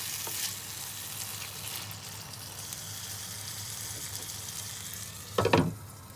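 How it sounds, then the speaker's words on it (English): Tomatoes sautéing in a hot pan for a Moroccan sardine tajine, a steady soft sizzle throughout with a brief louder burst of stirring or spatula scraping near the end. "Now that it's hot enough, you add the tomatoes. You just saute them for a little bit."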